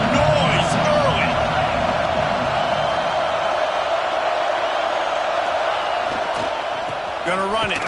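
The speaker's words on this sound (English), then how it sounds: "This crowd bringing the energy and noise early." A football stadium crowd at an Alabama game, a loud sustained roar of many voices with scattered whoops, under close commentary talk.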